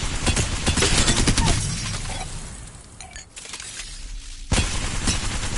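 The L-Star energy weapon fires in Apex Legends. A rapid, loud burst of gunfire fades into quieter crackling and shattering sounds, then a sharp blast returns near the end.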